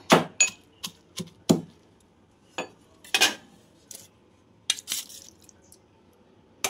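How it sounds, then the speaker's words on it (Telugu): Ridge gourd chutney being pounded in a small stone mortar, heard as close, irregular sharp knocks and thuds with quiet gaps between strikes. "నేను ఇక బీరకాయ పచ్చడిని చిన్న రోట్లో దంచుకుంటున్నా"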